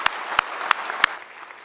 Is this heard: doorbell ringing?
no